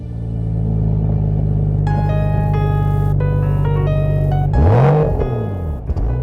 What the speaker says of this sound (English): The engine in this 335 is the familiar 300 horsepower turbo straight 6 we already know.